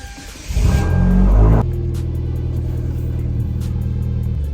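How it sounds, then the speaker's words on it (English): Hyundai Genesis Coupe on a test drive, a brief surge of engine acceleration followed by a steady rumbling cruise with road noise, close and fairly loud with no talking. "I'm gonna take the car on a test drive to do that"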